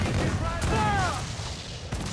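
Ship cannons firing in Assassin's Creed IV, heavy booming blasts layered with shouted voices from the crew, loud and close, trailing off into quieter rumble.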